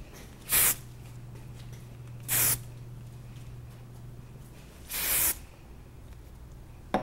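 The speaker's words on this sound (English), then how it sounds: "And add some hairspray." Hairspray sprayed onto teased hair in three short, sharp hissing bursts, each about a second long, close and fairly loud with quiet gaps between.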